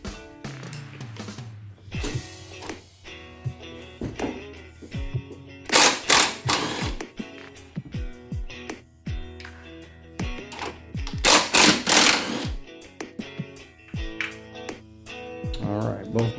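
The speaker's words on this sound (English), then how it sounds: "Alright, so it is a 13 millimeter. Loosen those bolts." A wrench works loose 13 mm bolts on a reservoir bracket of a 2016-2023 Camaro LT4, with quick rattling bursts of clicks separated by pauses and quiet talk.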